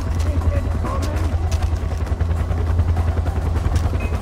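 A helicopter in the video game Far Cry 4, a steady loud low rotor drone with a rumbling, chopping texture running throughout, while someone talks over it.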